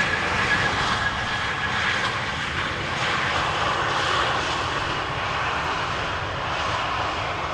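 A TAP Air Portugal airliner rolls out at Amsterdam Schiphol Airport with a steady, loud engine roar and broad hiss holding throughout, no voices present.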